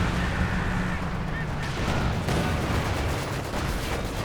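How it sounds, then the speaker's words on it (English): Panzer artillery barrage in Company of Heroes 2, a dense continuous rumble of distant shelling and battle noise running steadily throughout, with a sharper impact near the middle. "got some sort of artillery being brought in. I think it's the Panzer artillery."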